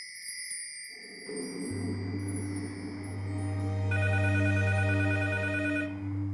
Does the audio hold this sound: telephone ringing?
yes